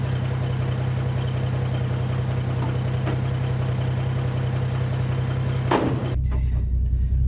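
A 300,000-mile farm truck engine idles steadily with a low, even rumble after starting, then cuts off abruptly near the end, leaving a quieter low hum.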